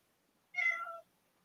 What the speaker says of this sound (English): he's just meowing at me